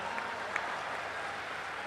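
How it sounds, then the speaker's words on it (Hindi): An audience at a Hindi humorous poetry recital applauds in a steady, dense wash of clapping that stays faint and distant throughout, with no distinct voices. "और आप सब जोरदार तालियां बजाकर उनका स्वागत करें।"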